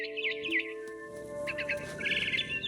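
Birds chirp and tweet in short repeated bursts inside the video game What Remains of Edith Finch, with a steady tonal hum beneath and a brief quieter gap in the middle.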